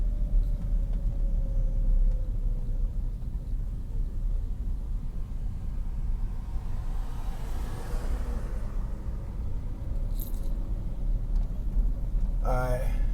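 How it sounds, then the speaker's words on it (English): Low, steady road rumble from a car passing along a residential street of closely spaced houses in East San Jose's Alum Rock area, heard from inside a moving vehicle as a continuous wash of engine and tyre noise. "We got a car behind me. I'm gonna let them go by."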